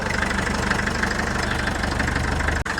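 A 1962 Lancing diesel forklift engine idles steadily after starting, a close, loud, even chugging knock that runs unbroken and then cuts out abruptly near the end, with no talking.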